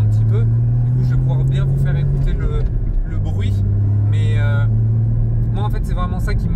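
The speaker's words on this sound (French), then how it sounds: "J'ai plaisir à entendre le bruit du GT4" A Porsche Cayman GT4 981 with a naturally aspirated engine is driven at low speed on a straight. It gives a loud, steady engine drone that briefly dips, while someone talks over it.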